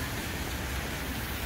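Steady rain falls on the way to Central Park in New York, a dense, even hiss of drops with no breaks and no voices.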